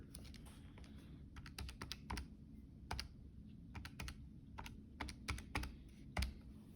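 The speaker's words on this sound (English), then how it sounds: "I'll go ahead and type that into the calculator." Numbers are keyed into a calculator, a quiet close sequence of sharp plastic button clicks in irregular bursts and pauses.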